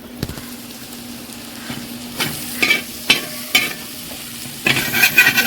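Onions, green chillies, tomato and curry leaves sizzle in a pan while a spatula scrapes and stirs in several separate strokes, growing busier toward the end; no speech.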